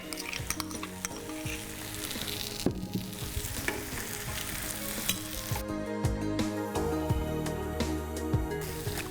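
Paneer tawa masala frying in a pan with butter and dried fenugreek leaf powder, a steady close sizzle with stirring and utensil scrapes throughout, no talking.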